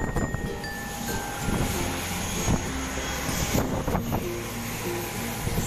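A fixed-wing airplane engine roars steadily at an airport, a loud continuous drone with wind buffeting, heard throughout without talk.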